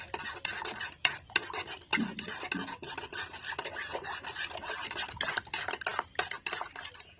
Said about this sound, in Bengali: দইটাকে অ্যাড করার পর ভালো করে একটু মিক্স করে নেব দুধের সাথে